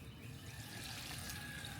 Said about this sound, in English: I am going to put this water on the fern